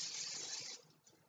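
A can of cooking spray hisses steadily onto a warm pan in one short burst that cuts off, followed by faint kitchen clatter.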